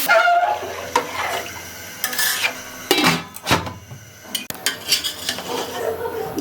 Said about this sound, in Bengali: আমি দিয়ে দেবো জল পরিমাণ মতো। আমি ঠান্ডা জল দিচ্ছি